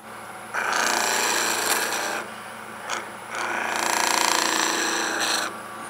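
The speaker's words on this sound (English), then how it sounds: "just lift the tool so we're slightly burnishing the timber" A lathe tool burnishes timber on a wood lathe between centres, giving a rasping, rubbing scrape in two long passes with a short break, over the steady hum of the spinning lathe.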